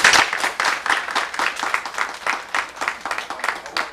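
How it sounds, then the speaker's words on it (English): A conference audience breaks into steady applause, dense overlapping claps that swell at the start and gradually thin toward the end, with no talking over it. "I think we should all give them a round of applause."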